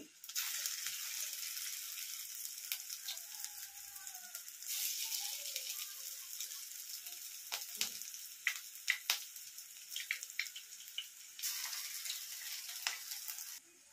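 Pakoras frying in hot oil make a steady hissing sizzle that swells as each piece drops in, with crackles, pops and occasional clinks of a utensil, close and continuous without speech.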